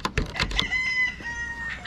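A rooster crows nearby on a poultry farm, one drawn-out call preceded by a few sharp clucks, fairly faint and alone.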